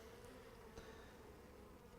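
Honey bees buzz in a steady, faint drone while a package of bees is shaken into a hive, a continuous hum with no talking.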